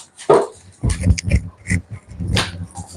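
Two dogs bark indoors, several sharp, close barks in quick succession with a yelp among them, loud and mostly alone with little talk.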